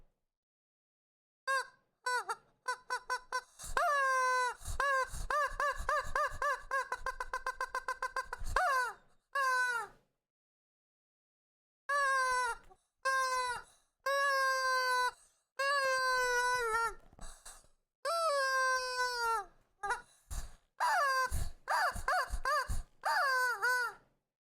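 A squeezed rubber chicken toy lets out long, wailing, honking squeaks in repeated bursts, loud and close, with short pauses between groups and a long silent gap partway through.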